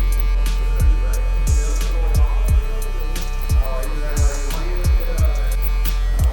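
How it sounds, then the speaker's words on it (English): Stylecraft Instinct hair clipper fitted with an Andis blade, lever half open, cutting an undercut fade: a loud, steady electric buzz with a hum that throbs in regular pulses about every three-quarters of a second. No one speaks. "I'm gonna go on with my clipper halfway open, and I'm working my way halfway into this section"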